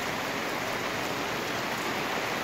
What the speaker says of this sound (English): Nice rainy day in Bermuda.